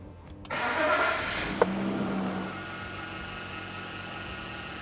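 A 1997 BMW 728i E38 engine cranking and firing up during a transmission oil flush, a brief starter whir and catch, a short rev, then settling into a quiet steady idle.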